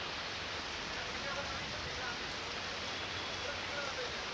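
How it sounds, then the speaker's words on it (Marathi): Heavy rain falling across Pune, a steady dense hiss of downpour without a break, loud and close throughout with no distinct individual drops standing out. "अनेक ठिकाणी पुण्यात पावसानं जोरदार हजेरी लावलेली आहे"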